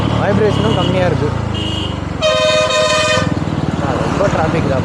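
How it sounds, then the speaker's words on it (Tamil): Heavy road traffic surrounds a Yezdi Roadster 2025 on the move, with a loud sustained horn blast and several shorter honks over a steady engine and traffic rumble, and a voice talking throughout. "ரொம்ப டிராஃபிக் தான்ப்பா."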